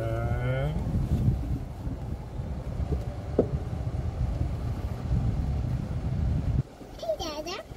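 A small golf cart rolls along with a steady low motor hum and rumble of wheels, a voice chirping over it at the start, and the engine noise dropping away near the end as more child chatter rises.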